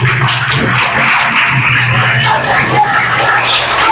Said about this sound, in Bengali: সবার জন্য সবাই একটা হাততালি দাও।